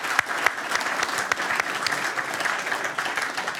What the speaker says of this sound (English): I think we can award you with a big applause again